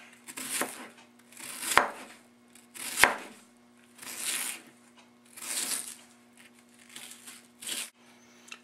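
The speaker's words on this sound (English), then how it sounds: "now I'm just going to chop the onion some" A kitchen knife chops half an onion on a cutting board in a home kitchen, a series of about seven to eight crisp close cuts and scraping strokes in an uneven rhythm, with no talking.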